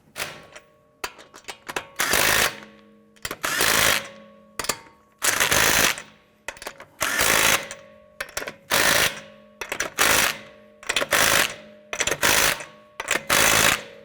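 Lug nuts on a 2012-2017 Toyota Camry wheel are run down with repeated loud bursts of a rattling impact tool, about a dozen short clattering spurts close by, separated by brief pauses.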